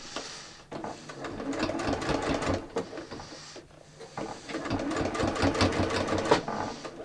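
A sewing machine stitches knit fabric through a bias binder attachment, running in two long bursts of rapid, loud mechanical chatter with a brief pause between them.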